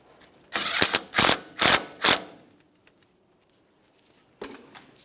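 A hand ratchet clicks in four quick bursts, tightening a brake hose bracket mounting bolt on a 1999-2006 Chevrolet Silverado 1500, then pauses before a final short burst; close and clear with no talk.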